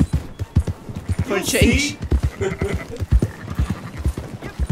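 Horse hooves clip-clop in a steady galloping rhythm while riding in the Red Dead Redemption 2 video game, loud and close, with someone talking over the hoofbeats.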